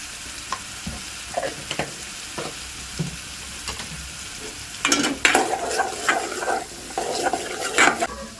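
Onions fry in a pan with ginger and turmeric as the mix is stirred. Soft sizzling runs under scattered spoon scrapes and clinks, which turn busier and louder partway through.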